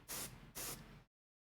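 An airbrush sprays a little brown transparent paint onto a miniature in two short loud hissing bursts about half a second apart, the second trailing off before silence.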